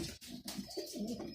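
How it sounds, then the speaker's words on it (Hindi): Red-eyed Majjale pigeons coo in low, repeated throaty calls, close and moderately loud, with a couple of brief sharper sounds early on. "ये मज्जले कबूतर हैं, लाल आँखों"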